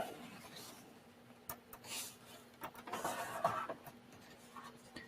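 A printed Moab paper artist card being folded, with soft crinkling, rubbing and light taps of the paper close by, building into a brief louder crease before settling.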